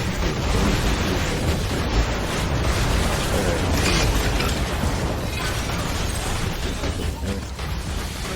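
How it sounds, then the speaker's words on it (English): A grenade goes off in the Borderlands 2 shooter, a dense, loud rumbling blast that fills the whole span with sustained broadband roar, layered game noise and a voice present underneath. "Tossing grenade!"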